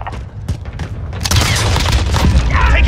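Gunfire and booming blasts in a Call of Duty Modern Warfare team deathmatch, scattered sharp shots early and then a dense, loud barrage of overlapping fire and impacts, close and continuous.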